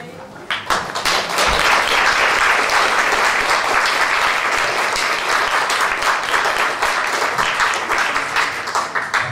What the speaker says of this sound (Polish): Klaski były już po samej projekcji, nie wiem, reżyser może nie zdążył usłyszeć, no to teraz